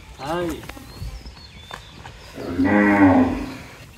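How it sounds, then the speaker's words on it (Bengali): A cow moos loudly and nearby, a long low call near the end, with someone speaking briefly beforehand. "জামাল ভাই, এইটা আপনার গরু কুমিল্লা ক্যান্টনমেন্টের এখান থেকে"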